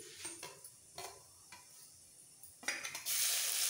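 A pinch of asafoetida and half a spoon of chopped garlic go into hot oil in a pan while cooking curry pakora. A few faint stirring clinks come first, then a sudden bright, loud sizzle rises and holds.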